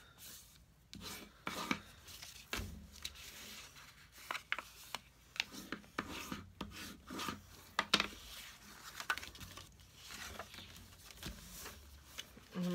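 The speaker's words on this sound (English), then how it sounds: "I'm just folding them all on the score lines." Paper card stock being folded along score lines for a craft project, heard as soft rubbing and creasing scrapes with scattered sharp taps, close and quiet, with occasional faint talk.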